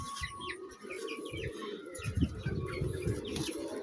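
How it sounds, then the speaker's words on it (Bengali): Breeder pigeons coo in low, murmuring bursts close by on a rooftop, with small birds chirping faintly in the background. "এগুলো সব আমার ব্রিডার কবুতর"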